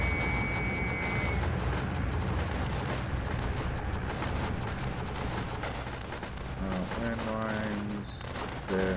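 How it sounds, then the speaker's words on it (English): Airstrikes pound away in a tower defense video game, a dense, continuous rumble of explosions and rapid gunfire with no letup, loud throughout, with some brief electronic tones sounding over the din. "there's a lot of airstrikes going on"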